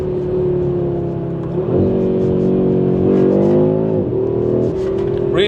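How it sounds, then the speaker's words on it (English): A 2025 Audi RS3 facelift with a seven-speed transmission revs under throttle while driving, its engine note droning steadily, then climbing and settling a few times as the gears are worked, loud and close. "Really fun to shift through these gears, to give this car some throttle."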